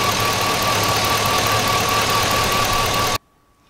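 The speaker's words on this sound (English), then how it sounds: "we're going to need the fuel pump relay back in so we can start it up" A 2000-2006 Chevy or GMC truck engine with a cylinder misfire and fuel injector trouble runs steadily and loudly up close, with a rough, shaking idle. It cuts off abruptly near the end.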